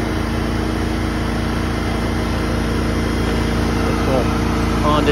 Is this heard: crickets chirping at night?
no